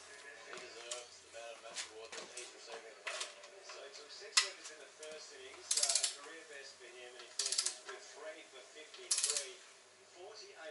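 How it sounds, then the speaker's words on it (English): Torque wrench ratcheting on RB25DET crankshaft main bearing bolts, quick clicking pawl runs repeated close by, with several sharper metallic bursts and a faint voice in between. "I'm not going to torque it up to 42 straight away, so I'm going to do it up to about 30 newton meters first"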